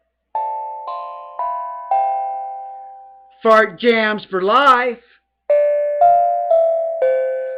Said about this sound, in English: The tongue drum, the tongue bell.